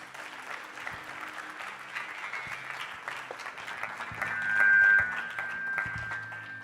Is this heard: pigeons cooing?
no